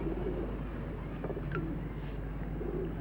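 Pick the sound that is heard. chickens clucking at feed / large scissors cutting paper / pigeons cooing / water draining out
pigeons cooing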